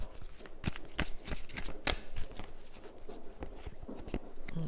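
Tarot card deck being shuffled by hand, a quiet, close run of rapid papery riffles and snaps with irregular rhythm throughout.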